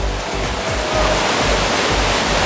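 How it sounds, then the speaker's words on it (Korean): An indoor waterfall inside the Geoje Jungle Dome botanical garden pours steadily nearby, a loud broadband rushing roar filling the whole moment without speech. "멋진 폭포가 지금 흐르고 있습니다"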